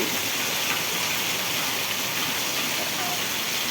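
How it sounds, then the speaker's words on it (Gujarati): Heavy rain with lightning pours down in a dense, constant hiss in Vejalka village, Ranpur, Botad district, with no breaks and no other sounds standing out. "કડાકો એટલે ભારે વરસાદ ચાલુ છે"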